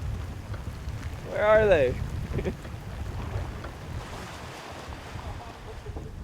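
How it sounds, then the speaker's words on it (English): Wind and rain of a squall buffet a shark-fishing boat riding big rollers at sea, a steady broadband rush with a brief voice calling out near the start. "the rain's coming down"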